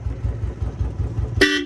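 A Roots horn fitted to a Royal Enfield Bullet motorcycle gives one short, loud, bright blast near the end, preceded by the bike's low idling engine thump.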